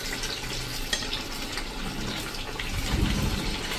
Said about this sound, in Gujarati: તો તમે જો આ રીતે તવીથાથી લઈને અને ચકરી મૂકશો ને તો તમને તેલ ઉડશે પણ નહીં